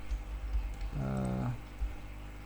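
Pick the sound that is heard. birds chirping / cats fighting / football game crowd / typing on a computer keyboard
typing on a computer keyboard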